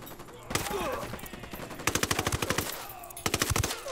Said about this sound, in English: I'm getting shot from every direction.